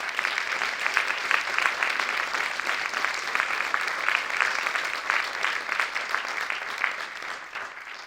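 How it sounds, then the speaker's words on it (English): An audience at a summit welcome session applauds, a dense steady clapping from many hands that holds for several seconds and then thins slightly toward the end. "I think we can give him a wide range of applause"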